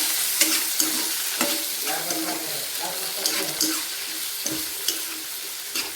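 Egg cubes frying with onion and tomato in a pan for egg cube curry, with a continuous sizzle and repeated scraping of a spatula across the pan.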